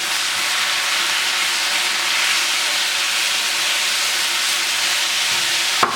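Japchae vegetables with onions and a spoonful of sauce hiss steadily in a hot pan, a broad, even sizzle that stays close and constant throughout, ending with a single small knock.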